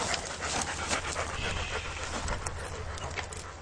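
A war dog pants quickly and steadily, soft rapid breaths close by over a low background hiss.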